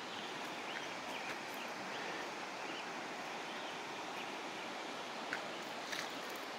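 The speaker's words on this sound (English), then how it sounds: "And always the sound of the moving water." Spring river water flowing steadily along the Bear River among oak, maple and wild lilac, a constant soft broadband rush with no talk.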